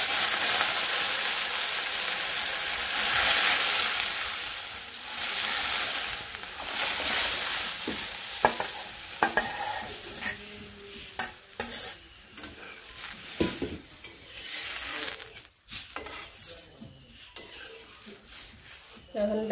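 Lentils tipped into onions frying in a pan hiss and sizzle loudly, followed by a spoon scraping and clinking against the pan as the dal is stirred, close and continuous.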